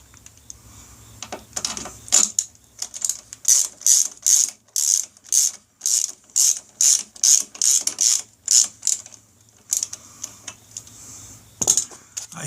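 A hand ratchet tightening threadlocked bolts on a motorcycle oil cooler, giving a close, rhythmic series of sharp clicking strokes in repeated bursts, with quiet pauses in between.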